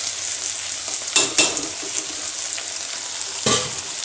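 Onion with ginger-garlic paste frying in a pan for chicken curry, a steady close sizzle with a few louder stirring scrapes and bursts, no voices.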